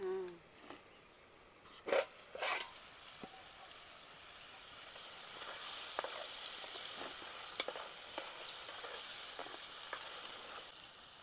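Country chicken curry cooking in a pot at an outdoor tribal farm setting, a continuous close sizzle and bubbling with scattered clinks and stirring knocks, a few sharp taps early on.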